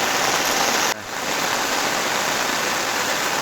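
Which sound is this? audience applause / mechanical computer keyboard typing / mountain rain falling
mountain rain falling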